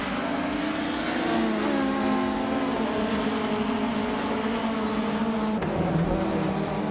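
WTCC touring cars, including Toyota Corollas and Seats, race around the tight Knudstorp circuit in a racing video game, giving a steady, loud engine drone with shifting pitch and no talk.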